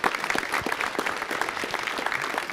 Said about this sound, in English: Let's give him one last hand clap.